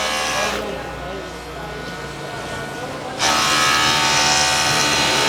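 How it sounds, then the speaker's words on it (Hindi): Sewing machines stitching clothes in a garment factory, a continuous buzzing motor whir that swells louder partway through, with people talking over the busy workshop noise. "स्टिचिंग हो रही है बेसिकली"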